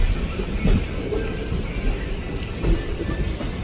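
A DEMU train rolls into Kalaburagi railway station on its run from Bidar via Humnabad, giving a steady close rumble with faint rail clatter throughout and no voices.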